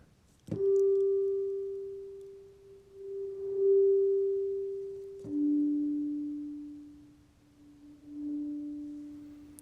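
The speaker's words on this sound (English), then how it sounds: "what happens if I add some of that reverse reverb to this sound?" Two sustained synth tones swell up from nothing and fade, each with a sharp onset, giving a reversed, swelling reverb tail; no voices.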